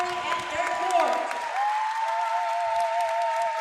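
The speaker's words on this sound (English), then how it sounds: "let's have a big round of applause for our King Josiah and our Queen Carly at their court" A gym crowd at a high school basketball homecoming claps steadily in a dense wash of applause, with a sustained tone ringing over it and a voice briefly audible amid the clapping.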